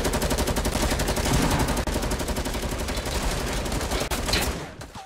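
Rapid, continuous automatic gunfire in the video game Fortnite, loud and close, firing in dense sustained bursts with only brief breaks before trailing off at the end.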